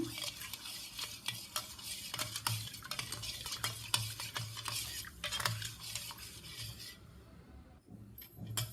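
A spoon stirs sugar and a little salt into citron (naarthangai) juice, with steady clinking scrapes against the vessel repeating throughout, close and fairly busy, without any talking.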